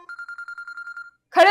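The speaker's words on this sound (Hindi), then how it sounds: "ये फोन किसका बज रहा है?" A mobile phone in a classroom gives a rapid series of short repeated electronic tones, about ten evenly spaced beeps, then a voice starts speaking right after.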